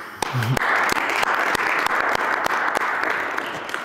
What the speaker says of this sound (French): je vous applaudis déjà